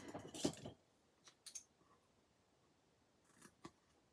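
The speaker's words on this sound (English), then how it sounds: "dimensionals and cut the side and take that piece and layer it like so" Scissors snip through the side of foam card-making dimensionals, close and crisp: one sharp cut, then a few lighter snips spaced apart in a quiet room.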